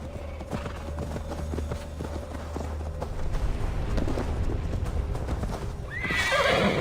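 A horse in the video game Assassin's Creed Valhalla trots with rhythmic hoof clip-clops, then gives a loud, close whinny near the end, over a low ambient game backdrop.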